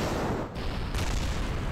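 Rocket engines fire at launch in the video game Kerbal Space Program, a broad, loud roar that swells sharply about midway and keeps rumbling steadily to the end.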